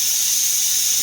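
Steam hissing from the release valve of a pressure canner, a steady loud high-pitched hiss with no other sounds.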